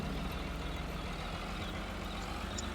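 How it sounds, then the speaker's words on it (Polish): A 120-horsepower tractor engine drones steadily while pulling a disc harrow across a field, a continuous low rumbling hum at moderate distance with no break. "a tutaj ciągnik 120 i sobie jakoś daje z nią radę w miarę"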